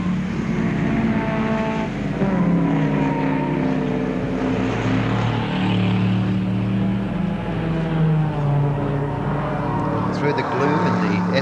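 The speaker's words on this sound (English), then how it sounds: "the little Mini could come up and challenge these 2 larger cars as they come down the straight" Racing cars, including a Mini Cooper S and two larger cars, run down Hume Straight at Warwick Farm in 1969, engines droning continuously beneath race commentary.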